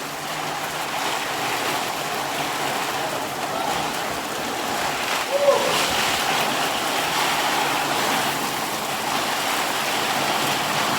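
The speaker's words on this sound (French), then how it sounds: "Jamais vu une pluie pareille." A heavy tropical downpour roars as a dense, even hiss of rain pelting surfaces, constant and loud throughout with no letup.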